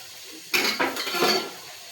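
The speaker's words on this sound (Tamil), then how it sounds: "நல்லா வதக்கிங்க." A metal spoon scrapes and clinks against a pan as chicken curry ingredients with green chillies are sautéed and stirred, a few close strokes over a soft background hiss.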